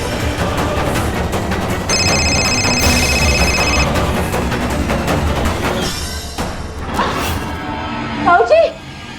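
A telephone rings in steady repeated electronic trills over busy background sound, followed by a few sharp, noisy bursts.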